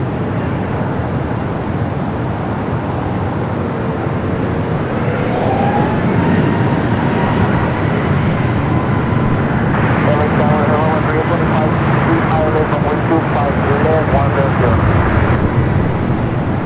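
An 11-year-old Airbus A350-900 arrives on the south side at LAX, a sustained jet engine rumble that grows louder midway and stays strong to the end, with a voice talking over it.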